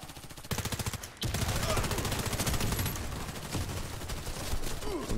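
Rapid automatic gunfire in the online shooter Warface, loud and sustained bursts of repeated shots with a brief pause before a long continuous volley, players' voices faintly underneath.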